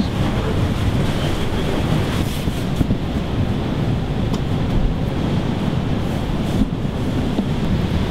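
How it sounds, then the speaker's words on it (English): Ocean waves surge and churn into a collapsed sea-cave blowhole with a loud, continuous roar, heavy wind buffeting the microphone and no voices. "it's like every three waves there's a big one or something like that"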